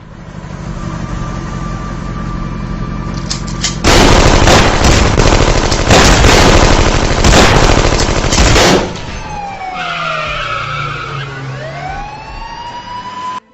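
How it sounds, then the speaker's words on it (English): Staged gunfire in a dramatized story: loud rapid bursts of shots crackle for about five seconds, then wailing sirens rise and fall as the shooting stops, with no talk. "Every single bullet missed Stephen."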